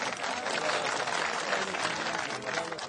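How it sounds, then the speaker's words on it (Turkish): An audience claps at a stone bridge opening ceremony, a steady burst of applause from a moderately distant crowd with faint voices mixed in. "Taş köprümüzü restore eden Demir Doğan için alkış rica ediyorum sizlerden."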